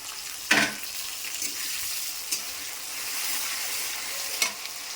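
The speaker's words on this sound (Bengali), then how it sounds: "পেঁয়াজটা লাল লাল করে ভাজা হয়ে গেছে এবার দিয়ে দেবো টমেটো" Onions fried until reddish-brown and fresh tomatoes cooking in a pan, with a steady close sizzle and a few sharp clinks of stirring spaced across the sizzle.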